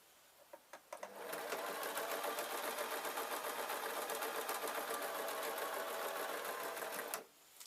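A sewing machine stitching a baby's kilt onto an elastic waistband, starting after a few light clicks and then whirring steadily and rapidly for about six seconds before stopping abruptly, close and clear.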